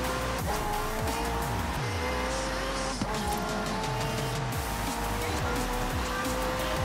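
A Renault 5 Turbo in Forza Horizon 4 races on winter roads, its engine revving loud and continuous through repeated gear changes while tires squeal and skid, close and unbroken throughout.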